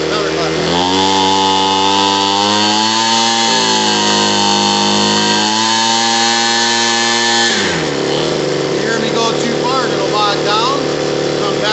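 A Homelite 26b leaf blower, freshly repaired at the carburetor and fuel line, runs close and loud at a high steady whine, its pitch stepping up and down as it revs, then dropping sharply to a lower, rougher drone near the end.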